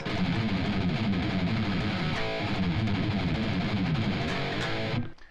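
A heavily distorted electric guitar plays the chugging, repetitive main riff, loud and continuous, then cuts off abruptly near the end.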